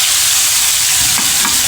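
Spices and chillies sizzle loudly in hot oil for pakoda, a dense steady crackle close by with light stirring scrapes toward the end.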